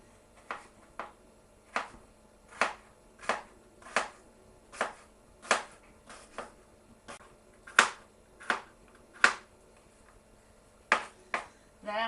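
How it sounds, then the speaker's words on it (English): A knife chops tender new potatoes on a board in a home kitchen, about sixteen crisp separate knocks at an uneven steady pace, close and clear against a quiet room. "Then I'm going to chop them."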